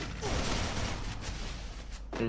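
Rapid gunfire from a shooter video game, bursts of dense shots playing close and fairly loud, with voices talking over the action.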